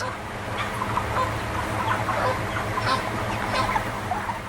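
A dense crowd of 20,000 broiler chickens clucking and murmuring together in a shed, a constant busy chatter with occasional louder calls over a low hum.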